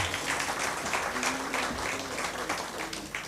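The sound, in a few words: applause welcoming the host author at book ceremony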